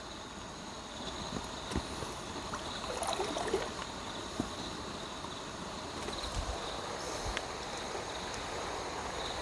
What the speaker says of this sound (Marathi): इकडे बघा पाणी बघा नदीचा कसा वाहतोय, आवाज पण येत असेल तुम्हाला बॅकग्राऊंडला